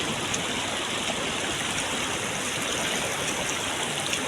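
A fast-flowing river rushes steadily in a dense, unbroken roar of water, loud and close, with no voices over it.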